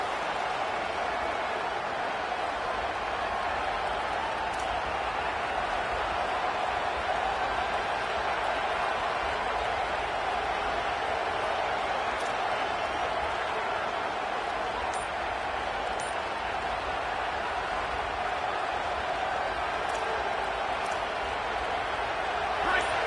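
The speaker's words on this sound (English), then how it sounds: "this crowd is turning it up a notch" A football stadium crowd roars continuously at a steady, loud level throughout, with a commentator talking over the noise.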